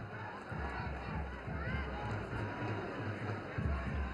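Crowd noise fills Estádio Nilton Santos during a Copa do Brasil 2020 football match between Palmas and Paraná, a distant continuous roar with rhythmic thumping under a broadcast commentator's voice.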